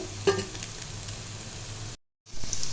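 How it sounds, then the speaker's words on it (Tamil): Pieces of taro root (seppankilangu) fry in an oiled pan with a steady, close sizzle and faint crackle, cutting out for a moment before resuming as loud as before. "திருப்பி திருப்பி போட்டு நல்லா வறுக்கணும் இதை"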